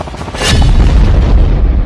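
A single loud, deep boom of a cluster bomb blast in the Ukraine war hits sharply and then rolls on as a heavy rumbling tail, with no voices.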